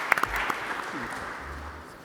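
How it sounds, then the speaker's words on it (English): Brief applause from a conference audience for panelists during a session in a festival hall, a few sharp claps at the start then a soft scattered patter fading under low room noise. "maybe a round of applause for them"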